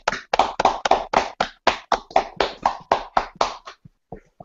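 A small group claps in a quick run of about a dozen sharp, close hand claps that come in an uneven rhythm and then trail off into a few scattered, fainter claps.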